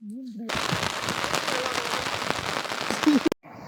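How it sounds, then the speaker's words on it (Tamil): Heavy rain pouring down outdoors, a dense, loud, crackling patter on surfaces that starts abruptly after a voice and runs steadily for about three seconds before cutting off. "செம்ம மழை இருக்குங்க இப்போதைக்கு மழை கொஞ்சம் நிற்காதுன்ற மாதிரி தான் தோணுது"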